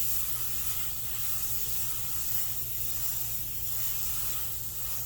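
A steady hiss of spray paint on a Chevelle car runs continuously at close range, with a low mechanical hum underneath.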